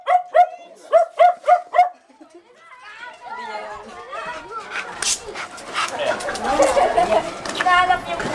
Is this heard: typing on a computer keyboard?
no